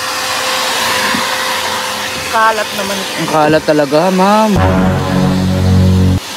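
A vacuum cleaner at a car wash roars with a loud, steady hiss from start to end, and its tone shifts near the end. People talk over it throughout.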